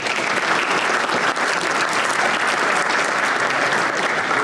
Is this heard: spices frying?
no